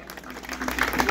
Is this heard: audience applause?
yes